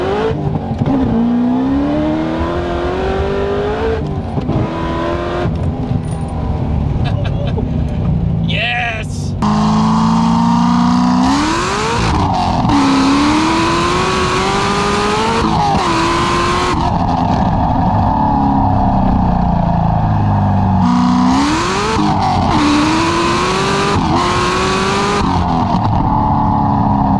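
890HP Corvette ZR1 accelerating hard on a second-gear roll-on pull, a loud close engine roar rising in pitch through several gear changes, with people talking over it.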